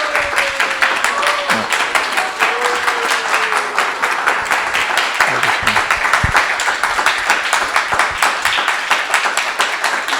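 Audience applause at a talk on ISKCON principles, sustained and dense, loud clapping from a crowd that continues steadily throughout, with a voice briefly heard underneath.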